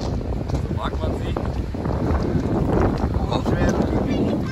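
Wind roars steadily across an open lake during a boat fishing trip in Croatia, a continuous rushing buffet against the microphone with faint knocks underneath.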